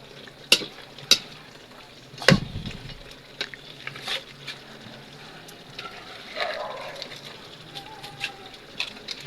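Ginataang gulay vegetables are stirred in a sizzling pan. A utensil scrapes and knocks sharply against the pan a few times over a low background sizzle, up close.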